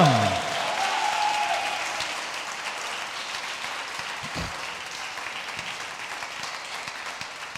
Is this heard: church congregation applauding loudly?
yes